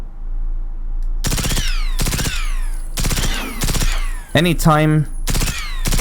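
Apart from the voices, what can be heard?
gunfire in the video game Generation Zero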